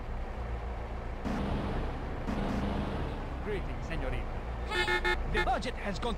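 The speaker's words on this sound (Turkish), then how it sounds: "Korna çalma lan." A car horn honks in GTA San Andreas, with short toots over steady engine and traffic noise and a burst of layered horn tones near the end, all fairly quiet.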